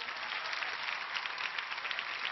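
A television studio audience applauds in an even, continuous wash of clapping at moderate level, sounding somewhat muffled in the upper range.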